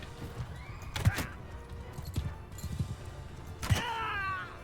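A horse in Bannerlord whinnies twice, loud and close, with a few hoof thuds between the calls, the second whinny trailing off into a long, wavering descending neigh.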